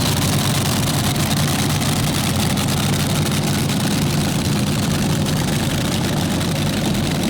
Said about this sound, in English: You hear the cackle of the nitromethane in the tank.